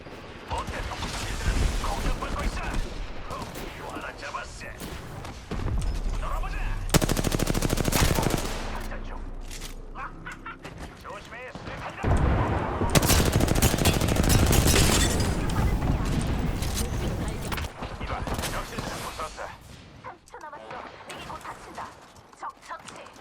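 Rapid bursts of automatic weapon fire from the Apex Legends video game come in dense clusters with heavy impacts, some near and loud, others lighter, while players talk over the action.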